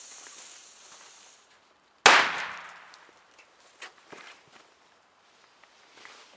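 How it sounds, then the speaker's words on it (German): One sharp, loud China-Böller A firecracker explodes outdoors, a single crack with a short ringing decay, followed by scattered quiet shuffles and small knocks. "China-Böller A."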